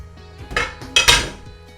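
Uncooked washed rice pours and clatters into a metal pot for a seafood rice bowl, two loud scraping, rattling bursts close up with softer clinks between, no talking.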